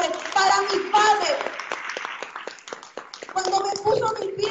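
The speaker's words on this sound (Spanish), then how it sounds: "Un aplauso para ese hombre, para mi padre." Audience clapping for a speaker's father at a Spanish-language event, a steady spatter of hand claps running through the whole stretch alongside overlapping voices.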